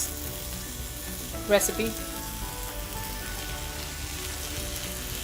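Shiitake mushroom, chicken and green bean fried rice sizzles steadily in a pan while being stirred, with a brief scraping of the utensil and a few quiet spoken words.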